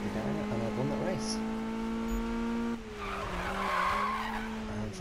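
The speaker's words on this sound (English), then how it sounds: "And front wheel drive drifting again." Tires skidding while a front-wheel-drive car drifts in Need for Speed 2015: a sustained squealing skid over a droning engine that drops in pitch partway through, with someone talking over it.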